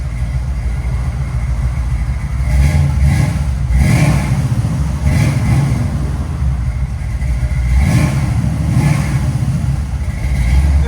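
1966 Chevy Chevelle SS 498 V8 with headers and Flowmaster 40 Series exhaust, loud and close, blipped repeatedly: about five sharp revs rising over a rough, rumbling idle in an uneven rhythm.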